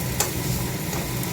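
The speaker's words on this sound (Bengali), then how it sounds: "কচুটাকে ভালো করে সাঁতলা নেবো আর একটুখানি মশলা দেওয়ার করে।" Taro pieces sizzle and fry with spices in a pan, a dense close hiss with a couple of brief scraping stir sounds.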